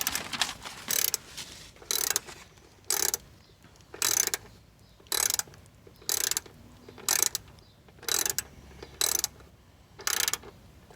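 Ratcheting wrench clicks in regular bursts while tightening Delrin door bushing bolts on a Mazda Miata, about ten evenly spaced bursts of quick metallic ticks, close and alone.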